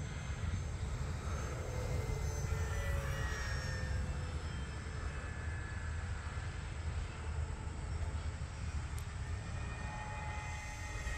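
Electric RC model P-51 Mustang airplane powered by a 3S 2200mAh battery, flying overhead as a steady whining motor drone under broad wind and outdoor rush, holding fairly even loudness throughout with no talk.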